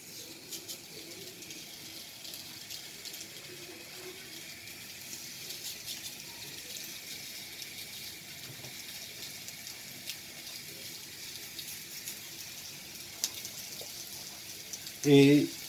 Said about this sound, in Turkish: Şimdi köftelerimi de kızartmaya başlıyorum.